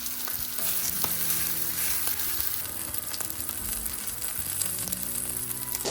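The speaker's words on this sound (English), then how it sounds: "whenever we're cooking our bacon, we never get that much fat" Homemade bacon fries on a griddle with a steady, close, dense sizzle and crackle, broken by a few faint utensil clicks, with no talking.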